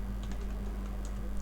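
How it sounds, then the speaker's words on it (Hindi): Quick light keystrokes on a computer keyboard, soft and rapid clicks over a steady low electrical hum, with no talking. "यहाँ मैं कुछ टाइप करूँगा"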